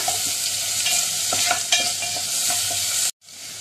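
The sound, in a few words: onion frying in oil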